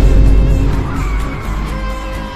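Car braking hard without ABS on a curve, wheels locked and tires skidding: a loud, continuous scrubbing squeal with engine and road rumble underneath, sustained for a couple of seconds.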